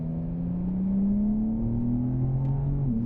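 A BMW M4 accelerating on the Circuit of the Americas race track, its engine note rising steadily and loud under power, then briefly dipping near the end as the revs change.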